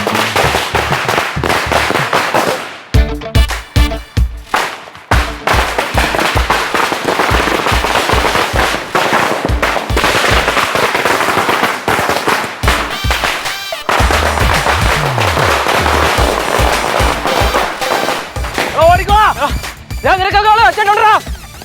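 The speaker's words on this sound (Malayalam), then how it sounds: "രണ്ട് പടക്കം പൊട്ടിച്ചപ്പോഴത്തേക്ക് ഓടിക്കളഞ്ഞു." Firecrackers burst loudly in a rapid, crackling string of sharp reports near a house gate, with voices talking through and between the bangs.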